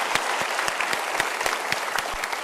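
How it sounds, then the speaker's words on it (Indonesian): An audience at a motivational talk claps steadily, a dense patter of hands that continues evenly throughout. "Bisa tepuk tangan."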